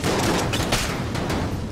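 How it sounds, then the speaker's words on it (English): Rapid chain of explosions and gunfire in the video game Enter the Gungeon as chests blow up, a dense, loud, continuous burst of booms and crackling blasts with no pause. "Oh man, that was a lot of explosions."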